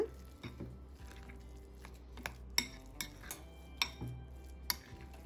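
Soft scraping and squishing of a spoon working through a thick banana-flower mixture with curry leaves and coriander in a bowl, with several sharp clinks of metal against the rim.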